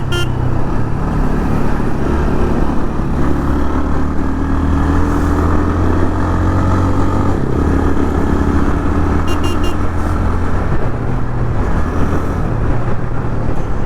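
A TVS Ronin motorcycle accelerates with engine pitch rising and dropping as it shifts through gears, heard as a continuous loud drone under wind and road noise during the ride, with no talking.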